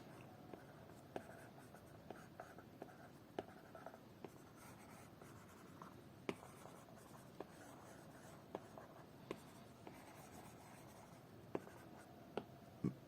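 Stylus sketching on a tablet screen in a drawing app, faint soft scratching strokes with light regular taps scattered throughout, close and quiet with nothing else heard.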